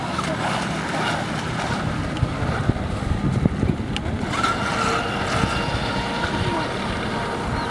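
A small RC boat motor whirs steadily under gusting wind and splashing water, with no voices.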